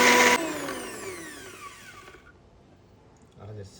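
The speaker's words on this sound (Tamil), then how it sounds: "ஸோ அதனால் இப்போது ரெடிமேடாக அரைக்கிறோம்." A mixer grinder whirs loudly for a moment while grinding fresh masala paste for prawn gravy, then its motor winds down with falling whine tones and fades to near silence.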